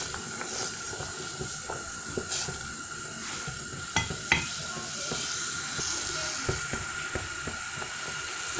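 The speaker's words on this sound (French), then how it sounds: "Je remue bien." Steady low scraping and clinking of a spoon stirring louménishé stew with onions, tomato and fish, soft irregular knocks over a continuous background hiss, no voices.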